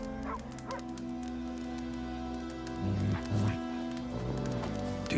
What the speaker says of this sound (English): Stop whimpering, Hussar.